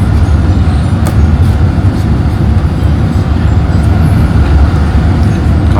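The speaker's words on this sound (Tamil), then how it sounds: "காலையிலே டிராஃபிக்காக இருக்குது." Busy morning road traffic near Sharjah bus station, heard from inside a bus, a loud, steady low rumble of engines and road noise throughout with no talking.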